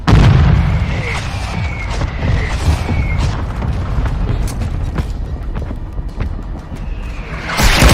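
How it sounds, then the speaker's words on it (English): Mortar strike explosions in Modern Warfare 2 multiplayer, a continuous barrage of deep booms and blasts rumbling throughout, with a louder burst at the end and voices talking faintly beneath. "Hostile mortar strike near your position."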